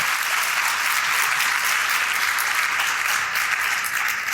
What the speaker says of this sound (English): I want a big round of applause for our amazing panel